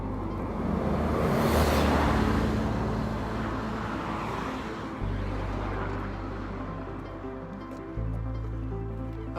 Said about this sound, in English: There's a bus coming